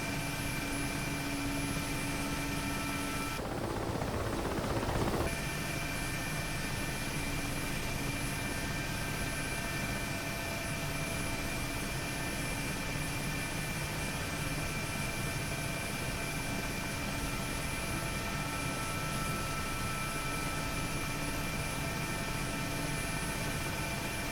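A Mi-8MTV2 helicopter in the DCS flight simulator spools up for takeoff: a constant heavy rotor and turbine drone with a tonal whine, holding steady throughout, with a brief louder burst of broadband noise early on.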